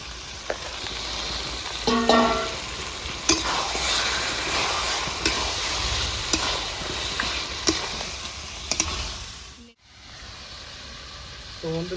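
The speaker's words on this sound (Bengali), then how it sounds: "বন্ধুরা এবার ম্যারিনেশন করে মাংসটা ঢেলে দেবো।" Marinated chicken hits a pan with tomatoes and fries with a steady sizzling hiss, broken by stirring scrapes and clicks, with a brief pause near the end.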